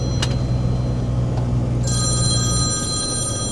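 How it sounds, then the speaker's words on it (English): A telephone rings in a workshop or garage, a bright repeating bell tone starting partway in over a steady low engine-like hum. "so that'll be the phone"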